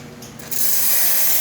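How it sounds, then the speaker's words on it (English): A loud, steady hiss of steam from an ECM espresso machine's steam wand, just after a full service, bursts on after a quieter start and holds strong to the end. "Nice strong steam."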